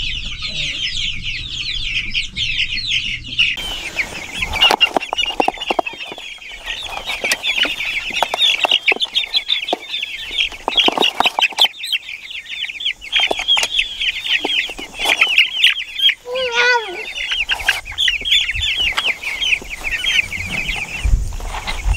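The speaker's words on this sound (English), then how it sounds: "Crazy, these birds, as soon as they get out on grass, they go right to scratching and pecking and eating grass and looking for bugs." Meat chickens out on grass pasture for the first time, clucking and chattering steadily up close, a dense overlapping flock murmur with occasional louder squawks.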